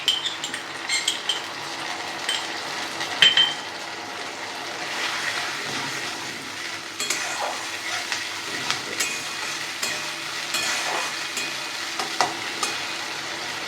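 Garlic fish sauce mixture stirring and frying in a pan, a steady sizzle under repeated scrapes and clinks of a utensil against the pan, close and moderately loud throughout.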